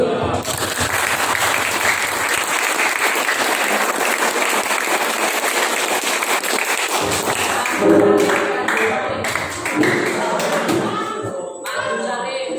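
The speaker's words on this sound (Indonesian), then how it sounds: "Kita tepuk tangan dulu." An audience at an Indonesian talk session claps in a dense, steady round of applause that carries on for several seconds before thinning into scattered claps and voices.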